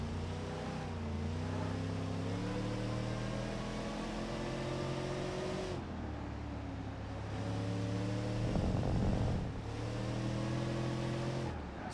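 A Ford Crown Victoria drives in BeamNG.Drive, its engine droning steadily and rising in pitch through the gears, with a brief rough burst near the end before it pulls again; no talk.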